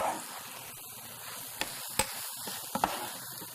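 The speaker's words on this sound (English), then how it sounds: "And just stir all that together." Stirring tomato sauce into mock cabbage roll filling in a hot pan: a soft sizzle runs throughout, broken by a few sharp knocks of the spoon against the pan, with no talking.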